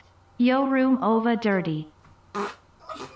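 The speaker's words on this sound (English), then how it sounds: "On God, you just farted." A loud, drawn-out fart with a buzzing, stuttering rasp, followed by someone talking and laughing indoors.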